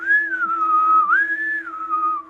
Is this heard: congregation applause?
no